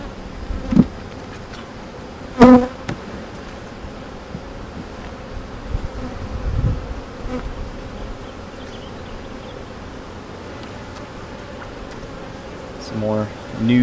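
Honeybees buzz at an opened beehive during a hive inspection, a steady close drone with a few louder passes as individual bees fly near.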